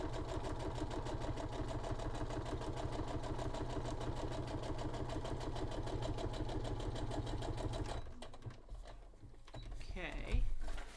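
A sewing machine runs steadily, joining two pieces of fabric along an ordinary seam with a fast, even mechanical whir. It stops near the end, leaving a few softer handling noises.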